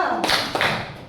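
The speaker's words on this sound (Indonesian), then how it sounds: "Tepuk 2." Two sharp group hand claps land a third of a second apart as a class claps on cue in a clapping game, each crisp burst fading quickly into quiet room tone.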